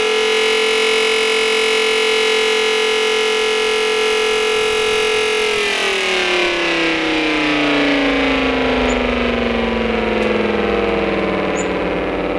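A home-built Cold War siren at top speed of 2250 RPM wails loud and close with a steady piercing tone, then winds down with a falling pitch as it slows.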